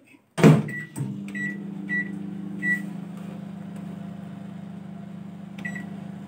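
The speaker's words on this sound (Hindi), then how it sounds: "माइक्रोवेव में 5 मिनट्स के लिए इसे रख देंगे" A microwave oven heating a homemade dish for five to six minutes: a thud of the door closing and a few short beeps, then a steady low hum that runs on alone at moderate level.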